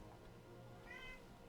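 A cat gives a single short meow, faint and brief, over a low steady background hum.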